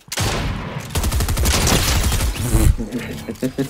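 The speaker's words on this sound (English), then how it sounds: "Just double SMG in each direction, bro." Submachine gun fire in the Fortnite video game, two SMGs in use during competitive arena play: loud, nearly continuous rapid bursts for most of the clip, tapering into scattered shots at the end, with a voice faintly underneath.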